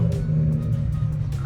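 A BMW E60 M5 with a straight-piped S85 V10 blares through a downshift, a loud deep snarling exhaust rumble with sharp crackling blips on top, heard close.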